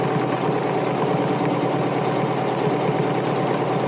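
A BERNINA sewing machine stitches fabric around curves, its steady fast motor whir and needle rattle running continuously and up close with no pauses.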